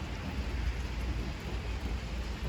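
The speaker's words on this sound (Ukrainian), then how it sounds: "На вулиці дощик." Steady rain falling outside a home during wet, cloudy weather, heard as a continuous soft broadband hiss with no clear individual drops, fairly even in level throughout.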